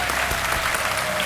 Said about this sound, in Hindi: तालियों के साथ आपका स्वागत है।